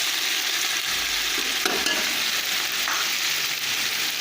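Steady, close sizzling of tomatoes frying in a hot pan for a bhindi dish, with occasional soft scraping from stirring.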